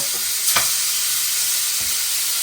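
Venison steak sears on high heat in a cast iron pan, giving a loud, steady, hissing sizzle throughout with a couple of brief scraping touches.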